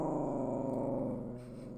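A person imitates a dog growling into a close microphone, a low, rough, sustained rumble with a rapid pulsing rattle, loud and alone for under two seconds.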